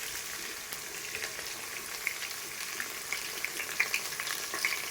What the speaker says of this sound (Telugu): వీటిని గోల్డెన్ కలర్ వచ్చే వరకు ఫ్రై చేసుకుందాం.